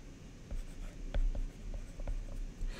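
Pen strokes on a drawing tablet while a calculus lesson is written out in orange, giving quiet, scattered taps and scratches with no talk.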